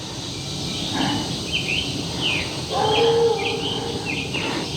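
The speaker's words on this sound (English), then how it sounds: "There's a cool little bird." Small bird near a lake giving a few thin, high chirps and short trills, fairly faint against steady outdoor ambience and rustle.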